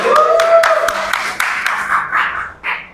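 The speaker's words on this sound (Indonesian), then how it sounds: "Tepuk tangan untuk kelompok 1." In a classroom peer lesson for Islamic religious education, students clap for a presenting group, a quick run of rhythmic, evenly spaced claps over a brief voice, loosening and tapering off near the end.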